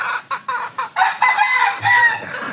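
Chickens cluck and squawk close by in quick, overlapping calls, a busy flock sound with a brief rooster-like crow mixed in.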